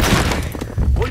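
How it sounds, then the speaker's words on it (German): Grenade blast in a team-based 5v5 shooter video game, a short loud booming thud with crashing debris, filling the whole moment. "Vorsicht! Granate geworfen!"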